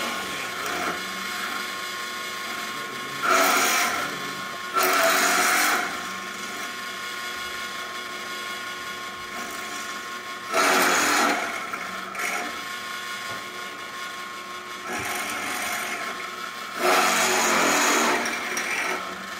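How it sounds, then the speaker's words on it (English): Repeated bursts of harsh scraping as a file rasps along sheet metal edges, several strokes in clusters separated by quieter gaps, close by. "then a file to file down the edges"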